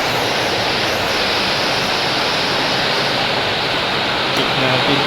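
Heavy rain pours down steadily on a small hut roof, a dense, loud, unbroken hiss of water with no letup from start to finish.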